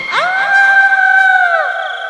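A woman named Hema lets out a loud, high-pitched scream in a cartoon story, one sustained cry lasting well over a second before it trails off.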